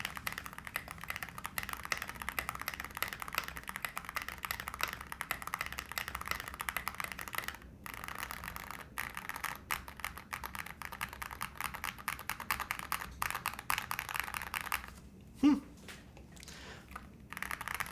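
Typing on a Tiger Lite mechanical keyboard fitted with SA keycaps and resting on a desk pad, a long stretch of quick, soft, closely spaced key clacks with a few short pauses and a brief heavier thump near the end.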